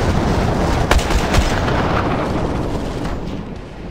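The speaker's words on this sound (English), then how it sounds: "Airstrike." Airstrike explosions in the video game Tacticool: a dense, continuous rumble of blasts with a couple of sharper booms standing out, loud and close, with no talking over it.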